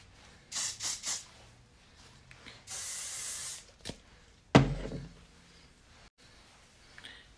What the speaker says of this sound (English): take my Big and Sexy hairspray and I'm going to slightly spray it in there